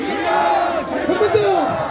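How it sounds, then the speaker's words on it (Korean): A crowd at a residents' assembly in Yeonje shouts a rallying chant together to open the event, many voices rising and falling in a loud, energetic unison cry. "여러분의 힘찬 구호로 주민대회 개막을 알리겠습니다"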